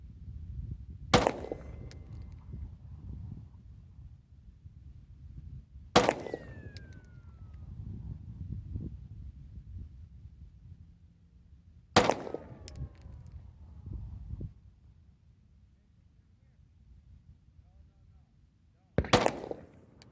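A Walther PPS pistol fires 9mm subsonic reloads loaded with Longshot powder. There are four sharp, loud shots spaced several seconds apart, each followed by a short ringing echo, with faint handling noise in between.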